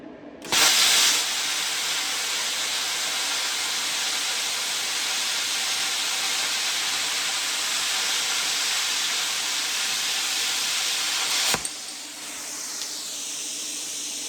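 A Bestarc plasma cutter slicing through 10 gauge sheet metal, heard as a loud, steady hissing rush that starts abruptly, holds for about eleven seconds, then cuts off, leaving a quieter airy hiss trailing afterward.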